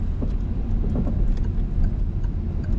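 A car pulls away and speeds up during a driving lesson, its low engine rumble steady and fairly loud with road noise throughout, no voices heard.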